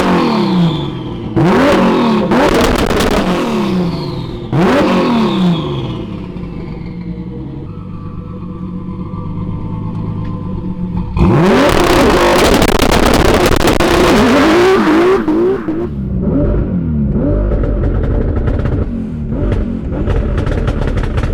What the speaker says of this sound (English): Let's see if we can actually spin the tires a little bit.